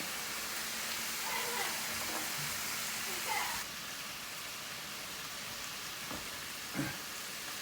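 Onion frying in a pan for a Pakistani-style egg biryani, a soft steady sizzle with faint crackles throughout, quiet and close, with occasional light knocks.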